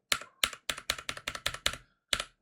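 Keystrokes on a new computer keyboard, about nine sharp, close clicks in an uneven typing rhythm with a short pause before the last press.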